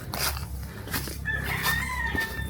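A rooster crows nearby on a farm over a steady low rumble, with scattered clucks from other chickens around it.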